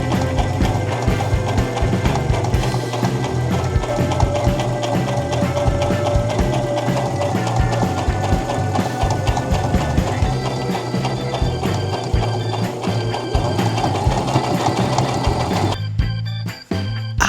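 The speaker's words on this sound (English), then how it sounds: "While I am sewing, I am just making sure that the double fold is still double folded." Sewing machine stitching a double-folded fabric hem, a steady fast mechanical clatter running continuously at close range before stopping near the end.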